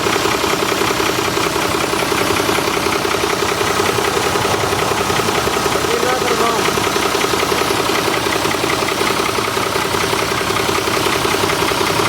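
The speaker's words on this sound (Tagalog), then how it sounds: "Nagpo-blow by na yung makina." A worn 6D17 diesel engine with blow-by, spitting oil, runs loudly and steadily, a rough, rattling drone that never changes pace, with no talk over it.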